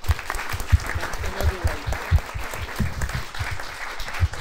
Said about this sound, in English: So let us give us our sincere applause.